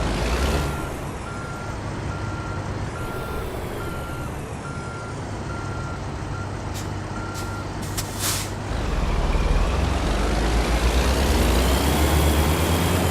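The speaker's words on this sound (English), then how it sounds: "That's because I'm working the transmission to death almost. I'm in too low of a gear." Truck reversing in too low a gear, its engine and transmission droning loudly and steadily, with a regular reversing beeper, a brief air brake hiss, and the engine note rising toward the end.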